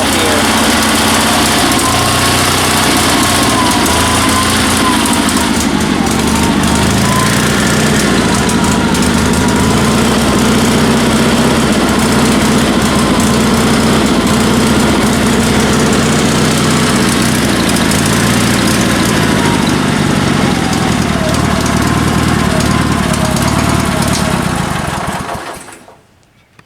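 A Sears Suburban SS16 lawn tractor engine, a two-cylinder, runs steadily and loudly nearby for the whole stretch with a slightly uneven drone before cutting off at the end.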